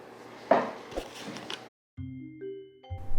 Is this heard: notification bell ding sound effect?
yes